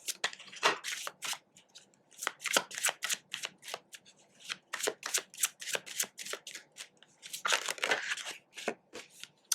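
Tarot cards shuffled by hand in quick bursts of close, crisp riffling and flicking, with brief pauses between runs and a busier flurry near the end.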